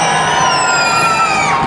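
Cheering, whooping crowd gathered around a street performer's pitch on London's Southbank, a dense, steady roar of voices with shouts and children's cries rising throughout, loud and close.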